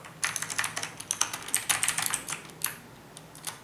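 Keys clatter in a quick, uneven run on an inexpensive Aula Demon King mechanical keyboard, close and crisp, then slow to a couple of last strokes and stop near the end.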